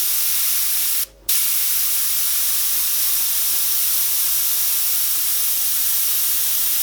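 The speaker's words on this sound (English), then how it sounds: "Now I'm going to lightly mist" An airbrush lightly mists paint over an owl painting in a steady, continuous hiss that fills the whole stretch, broken once by a brief pause near the start.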